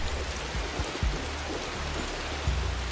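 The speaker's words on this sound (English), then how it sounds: "look at the rain and the sound design on the roofs" Steady rain pouring onto rooftops in the video game Assassin's Creed Shadows, a dense continuous hiss with scattered low thumps of drops, fairly quiet and with no voices.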